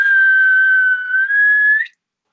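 Loud, sustained whistle from a man, a single steady high note lasting almost two seconds with a short dip in the middle, close and alone.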